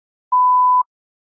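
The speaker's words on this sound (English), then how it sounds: "Please begin speaking after the beep." A single clean electronic tone of about half a second marks the start of a timed response in an English speaking practice test, steady and alone with silence before and after.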